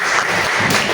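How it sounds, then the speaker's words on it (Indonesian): An audience bursts into dense, sustained applause at a leadership outreach event, loud and close, filling the whole moment without pause. "Bagus, tepuk tangan"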